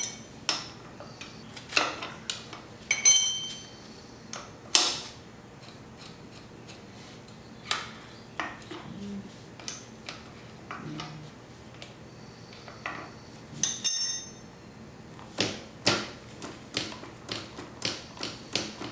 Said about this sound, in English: we need to loosen off this adjusting lock nut here and then dial this screw in towards the bike